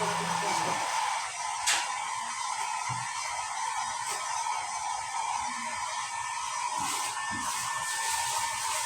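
A blower dries a dog after its bath, giving a steady close whooshing hiss with small clatters while people talk over it.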